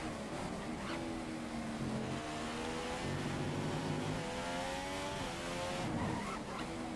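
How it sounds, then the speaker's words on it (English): An F1 2015 racing car in a video game with its rear tires spinning, the engine droning and shifting pitch steadily while tire noise hisses and squeals continuously underneath. "You're just spinning the tires constantly."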